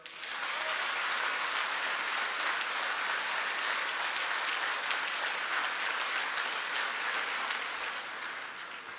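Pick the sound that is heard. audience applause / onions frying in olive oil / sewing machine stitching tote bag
audience applause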